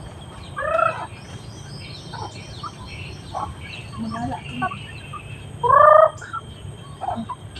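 Chickens roaming free on a farm, heard as a few loud, close warbling bird calls rising above a soft background murmur, with a person talking quietly at times.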